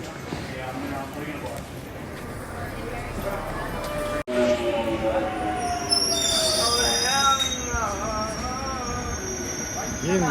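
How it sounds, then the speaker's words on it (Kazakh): A London Underground Tube train pulls into West Hampstead station, rumbling closer and then letting out loud, high wheel squeals as it brakes at the platform, with a voice speaking over it. "Мен мінетін пойыз келді."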